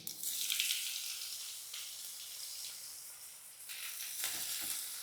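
Onions dropped into hot oil with cumin, a bright hissing sizzle that surges at the start, eases off, then rises again with a few stirring scrapes, close and moderately quiet.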